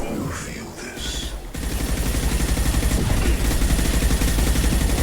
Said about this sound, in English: Yeah, incendiary ammo.